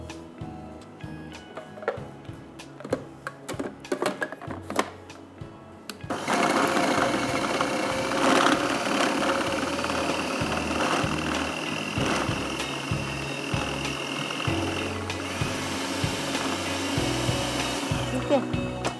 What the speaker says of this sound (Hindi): 4 ounce बटर को मैं थोड़ा सा बीट कर रही हूँ।